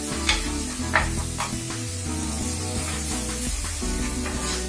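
Red chili powder and amchur are mixed with salt in a pan. A rhythmic scraping stir repeats with a sizzling hiss, over faint steady tones in the background and no talking.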